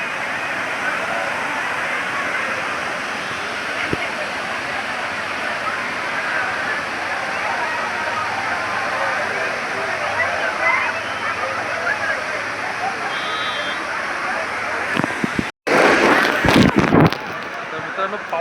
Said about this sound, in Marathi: पाऊस पडून गेलेला आहे त्यामुळे कसं हा धबधबा आहे ना खूप फोर्समध्ये वाहतोय